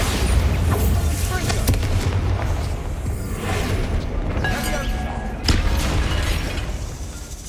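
Bombarda explosion spells go off in Hogwarts Legacy as repeated booming blasts with sharp cracks, set within a dense, continuous wash of game noise.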